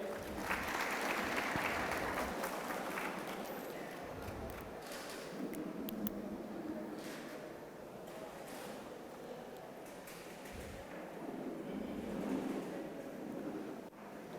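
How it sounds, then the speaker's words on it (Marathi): A crowd at a farmers' seminar claps in sustained applause, loud at first and then settling into a steady wash of clapping that lasts throughout, with faint murmuring underneath. "जोरदार एकदा टाळ्या वाजायच्या आहे"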